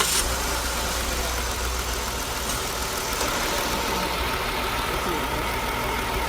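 A car engine with a cylinder misfire runs steadily close by, a continuous rough idle with uneven knocking texture throughout.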